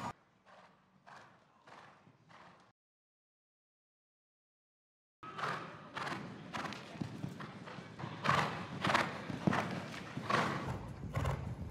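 Hooves of a horse clip-clop at a riding stable in two bursts, a quieter steady sequence, a pause of silence, then louder, busier hoofbeats with a brief whinny among them.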